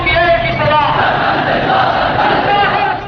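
A large protest crowd in the streets of Lahore roars and chants together, a loud, sustained mass of voices without pause.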